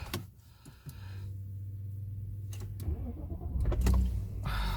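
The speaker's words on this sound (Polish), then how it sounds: "odpalimy samochód" An Audi A6 C6 2.4 V6 quattro is started from inside the cabin: a brief click and whir, then a low steady idle hum settles in and rises in a short rev near the end.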